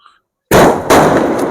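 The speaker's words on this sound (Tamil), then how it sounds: "அப்படியே மொத்தமா சேர்ந்து வெடிச்சிருச்சு." A Sivakasi fancy firecracker bursts with a sudden loud blast after a short silence, then a second loud burst follows with crackling and a lingering rumble, close by, no speech.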